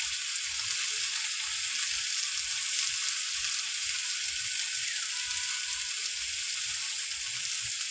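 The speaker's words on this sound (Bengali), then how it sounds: "এবার লবণ হলুদ দিয়ে কিছু সময় একটু কষাই করে নেব।" Papaya and kulpi greens fry with salt and turmeric in a pan, a constant bright sizzle over faint low tapping of stirring, with no voices.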